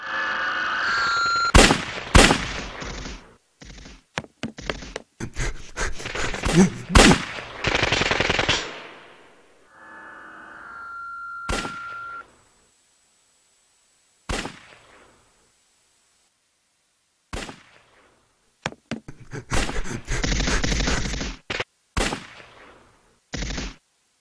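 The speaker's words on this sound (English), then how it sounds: "make your own sweet action scenes complete with muzzle flares, debris, and explosions" Rapid bursts of gunfire crackle in clusters, punctuated by sharp blasts and short silent gaps, loud and close with no voices.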